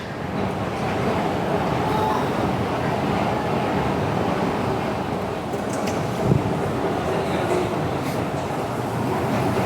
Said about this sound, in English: And time to venture onto the subway.